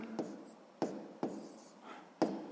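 A math answer written by hand, with a few sharp pen or chalk taps and short scratchy strokes spaced through the moment, close and fairly quiet, with no talking.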